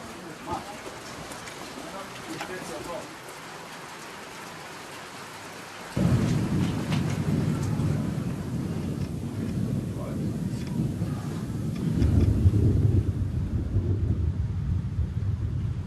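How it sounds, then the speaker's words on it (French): Heavy rain pours down steadily and grows louder partway through, with rumbles of thunder rolling underneath. "Il pleut vraiment des cordes."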